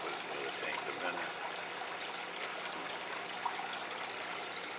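Water from a DIY aquarium filter pushing about 350 gallons an hour flows and trickles steadily at close range, a continuous splashing stream with a faint voice underneath.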